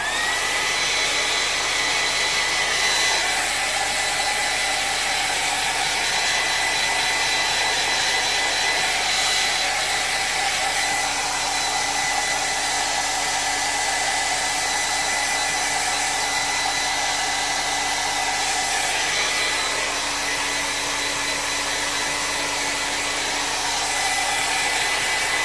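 A hair dryer blows steadily and close for the whole stretch, drying mustache and goatee makeup, a continuous loud whooshing hum with only slight shifts in pitch as it moves.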